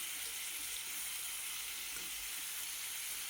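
Mutton fries inside a pressure cooker with a continuous, even hiss of sizzling oil, faint and unbroken throughout.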